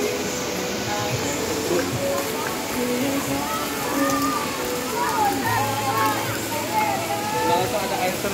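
A waterfall beside a hilltop cottage pours down in a dense, steady roar of rushing water that fills the whole clip at close range, with faint voices buried beneath it.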